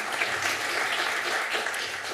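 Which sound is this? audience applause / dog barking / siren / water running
audience applause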